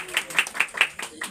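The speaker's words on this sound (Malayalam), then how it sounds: "എല്ലാവരും ഒന്ന് കൈയടിച്ചേ" Several people clap in a short, loose burst of about five or six hand claps, close and sharp, at a Christian prayer blessing for a child's first writing of letters.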